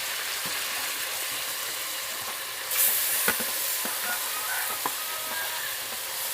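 Wild mountain mushrooms, freshly sliced, sizzle steadily in a hot pan with a few sharp scrapes and clicks of stirring, a continuous close frying hiss with no talk.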